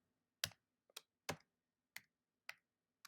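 Keys tapped one at a time on a computer keyboard, six sharp clicks spaced about half a second apart, close and distinct in a quiet room with no talking.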